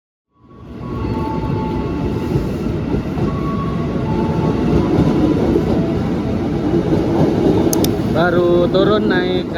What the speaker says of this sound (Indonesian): Baru turun naik kereta KRL